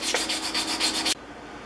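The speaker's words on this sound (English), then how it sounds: "take my 150 grit on a sanding block and clean up this edge" Close, steady back-and-forth rasping of 150-grit sandpaper on a block against the curved metal edge of a bench plane lever cap, several rapid strokes that stop abruptly, then quiet.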